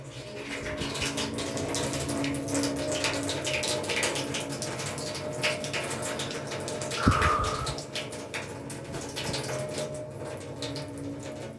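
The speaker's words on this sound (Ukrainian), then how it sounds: "Майже 4 хвилини в мене лилася вода." Tap water runs steadily in an apartment during a power blackout, the pump switched off and pressure falling toward zero; a continuous, moderately loud rushing stream that holds for the whole stretch.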